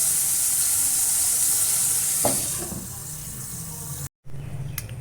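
Bitter gourd fries in a pan with a steady broadband sizzle for about four seconds, broken by a brief stir or clatter midway, then a short silence as the lid goes on and the sizzle continues more softly beneath it.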